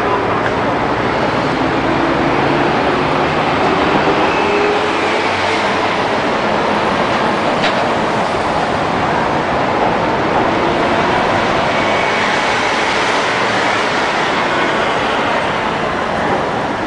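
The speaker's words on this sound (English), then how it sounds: "All the number one line trains." Seoul subway Line 1 trains pass at Noryangjin Station with a steady loud rumble of rail traffic mixed with road noise, continuous and close throughout.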